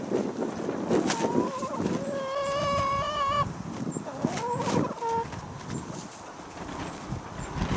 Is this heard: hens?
yes